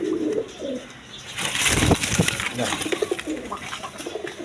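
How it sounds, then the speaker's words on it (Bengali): Coloured Raj Golla pigeons, a pair of fancy show birds, coo at close range with soft repeated calls; a brief rustle or flutter swells near the middle, and no speech is heard. "প্রথমে এক পেয়ার কালারিং রাজগোল্লা কবুতর দেখাইতেছি"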